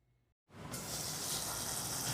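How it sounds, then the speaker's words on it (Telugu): Water for gongura pulao coming to a boil in a pot, beginning as a steady rushing hiss after a moment of silence and staying loud and constant, close up. "ఎసురు మరుగుతుందండి."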